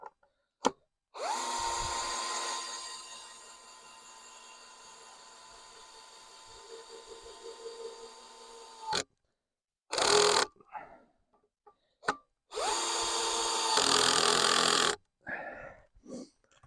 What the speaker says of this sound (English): those screws, they kind of self-tap into the wood